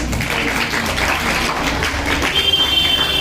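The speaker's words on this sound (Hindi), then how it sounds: "एक बार अपने लिए जोरदार तालियां बजाइए" An audience of school event attendees applauding, a dense continuous wash of clapping at even loudness throughout.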